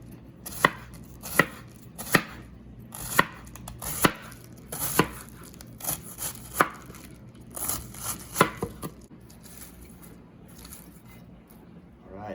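A knife chops through fresh cabbage on a board in a series of crisp, fairly regular thuds, about a dozen close strokes that thin out and soften toward the end, with a voice heard faintly in the background.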